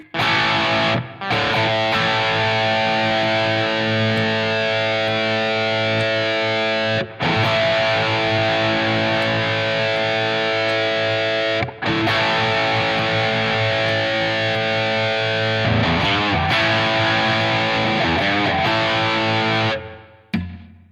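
An Epiphone Les Paul Prophecy electric guitar on its normal pickup voicing plays sustained, distorted chords. Four strummed passages ring loud and full, separated by brief gaps, with a bending, wavering phrase near the end and no talking.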